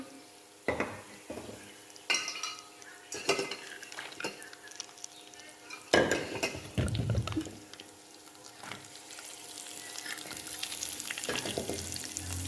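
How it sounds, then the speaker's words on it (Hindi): Mixed nuts roasting in ghee in a pan on a stovetop, with a steady low sizzle under repeated clinks and scrapes of a spoon stirring against the pan, close and fairly quiet. "चूल्हा ऑन करेंगे और इसमें थोड़ा सा घी डालेंगे और तमाम नट्स को हल्का सा रोस्ट कर लेंगे।"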